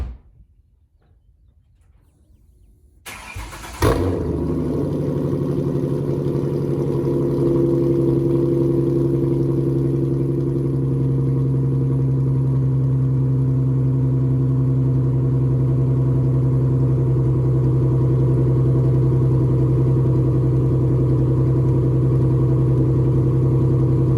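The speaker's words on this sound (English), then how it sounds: "let's get a nice cold start and then start washing this car" A 2010 Ford Mustang V6 fires up from cold after a few seconds of near silence, settling into a steady, loud, close idle with a low droning hum that holds evenly to the end.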